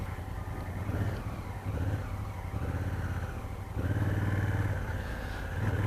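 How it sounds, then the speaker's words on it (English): A 2016 Honda Africa Twin motorcycle with a 1,000 cc engine hums while being ridden, its engine note rising and falling through gear changes. It stays moderately loud and close, with no talking. "except I'm riding my bike and talking to you guys."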